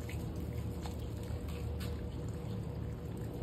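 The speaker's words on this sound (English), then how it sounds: "all you're gonna do is water it. Simple. Just saturate the whole thing" Water pours steadily onto a freshly planted cutting in a pot, a soft continuous trickle and splash soaking into the soil, quiet and close with no talking.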